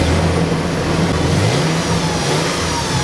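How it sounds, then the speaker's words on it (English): A Toyota 4Runner's exhaust rumbles steadily at a low, even idle with a slight rise in pitch partway through, heard up close and alone. "And now we'll have a listen to the exhaust."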